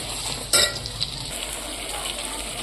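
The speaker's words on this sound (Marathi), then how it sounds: "आता हे आपण वाटण केलेलं कांदा खोबरं कोथुंबीर आणि डाळे हे छान आता तेल सुटेपर्यंत परतून घ्यायचं व्यवस्थित" Ground onion, coconut, coriander and dal paste sautéed in oil for a village-style chicken masala, giving a steady soft sizzle with one sharp scrape of a spoon against the pan near the start, no voices.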